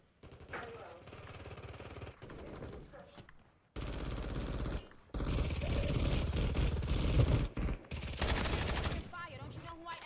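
Machine gun fire in a shooter video game, long sustained bursts of rapid automatic shots, loud and dense, broken by brief gaps between volleys.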